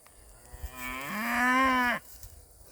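Watusi cattle on a farm give a single long, loud moo lasting about a second, rising in pitch and then cutting off abruptly, with quieter outdoor background before and after.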